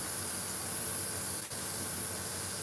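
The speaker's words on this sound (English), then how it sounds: "as long as you're spraying fairly consistently, you don't have to worry about the brush drying" An airbrush sprays water-based acrylic paint onto fishing lure blanks, a steady, even hiss that runs without a break except for one brief dip partway through.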